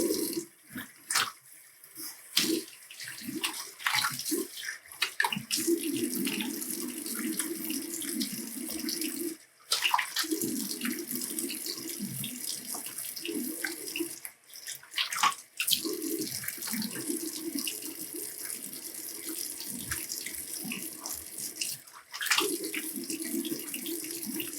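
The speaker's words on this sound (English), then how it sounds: "I'm gonna have to rinse a bit with warm water." Warm tap water runs steadily into a sink while a razor is rinsed during a wet shave, a continuous splashing stream broken by brief pauses and clatters, with no talking.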